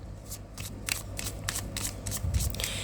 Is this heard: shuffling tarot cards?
yes